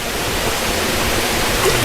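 Water flows out of a tilapia fish pond on a farm, a loud, steady rushing wash throughout with no talk over it.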